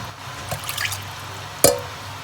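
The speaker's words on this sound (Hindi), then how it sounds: "थोड़ा सा पानी ऐड करूँगा इसमें" A small amount of water is splashed into a pan of stuffed eggplants with minced meat and tomatoes, heard as a few soft drips and one sharper, brief splash in a quiet kitchen.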